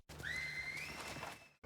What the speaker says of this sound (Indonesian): mereka mendengar suara siulan, tanda bahaya yang membuat semua orang panik